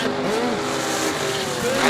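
Second-generation Chevrolet Camaro making a drag race pass, engines howling and revving with rising and falling pitch sweeps, loud and close, brief burst of racing noise with no talk.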